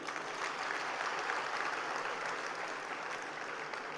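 Applause from a crowd at a Tamil poetry recital, a soft, even, continuous wash of many hands clapping, distant and fairly quiet throughout.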